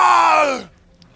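A human voice imitates a creature's scream, a single loud, close shriek that slides downward in pitch and cuts off after about half a second.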